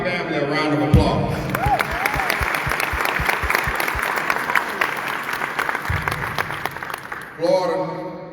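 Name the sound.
audience applause at military ceremony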